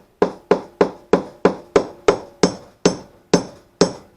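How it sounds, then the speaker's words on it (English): A hand hammer striking a handle, eleven sharp, evenly spaced blows about a third of a second apart, each a crisp ringing knock that fades before the next, close and alone. "Gee, I hammered that like a woman."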